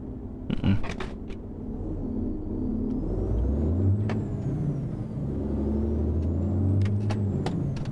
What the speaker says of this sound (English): And we'll go ahead and put my brakes on.